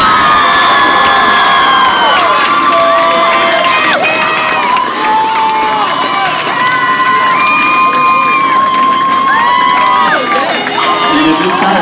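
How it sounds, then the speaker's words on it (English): A large crowd at a high school homecoming event cheers and whoops loudly and without a break, with shrill shouts and whistles layered over the steady roar. "let's hear it for our 2017 homecoming queen, Magdalena Poost."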